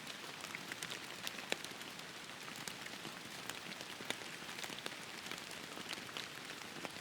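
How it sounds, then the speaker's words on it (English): Steady rain falling outdoors near a tent beneath a tree, a dense even patter with scattered sharper drops striking the surface, soft and continuous with no voices. "It's been raining like a pissing cow these days"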